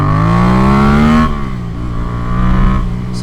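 A Yamaha FZ-07 motorcycle is floored in first gear and lifts its front wheel, its engine rising loud and close to a high rev, then dropping sharply on a shift before building again.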